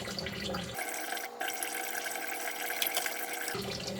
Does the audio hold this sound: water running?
yes